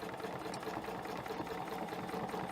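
A sewing machine runs steadily as it stitches a snowflake pattern along a ruler, giving a continuous close whir with a fast mechanical patter and no talk over it.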